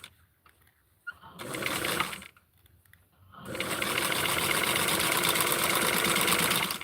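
A sewing machine stitches a Skipper doll dress, starting with two short bursts broken by pauses, then settling into a steady, continuous run of close, even stitching.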